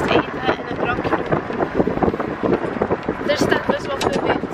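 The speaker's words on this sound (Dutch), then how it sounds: "Er staat best wel veel wind." Strong wind buffets the microphone on a boat trip, a continuous rough roar with gusts, while someone talks over it.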